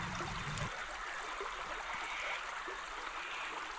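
A shallow Australian creek trickling and flowing steadily, a soft continuous wash of running water heard alone at a moderate distance.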